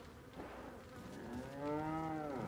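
A cow in a Resident Evil 4 village moos once, a drawn-out low call that swells and fades near the end, over buzzing flies and faint ambient hum.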